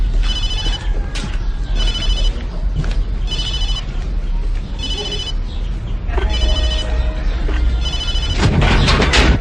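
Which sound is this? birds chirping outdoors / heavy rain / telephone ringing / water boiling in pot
telephone ringing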